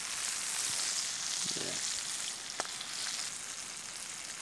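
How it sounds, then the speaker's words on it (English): Venison and lamb patties fry in butter in a pan at a rainy solo tent camp, giving a close, continuous sizzle with a few sharp pops and a short spoken word partway through. "I've got my venison and lamb patties sizzling away there"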